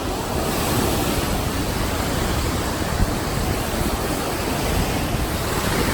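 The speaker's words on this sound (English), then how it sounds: "All right, Kenzie, we're at Lake Michigan." Waves wash continuously on the shore of Lake Michigan on a rough, windy day, a dense steady roar of surf with wind buffeting the microphone.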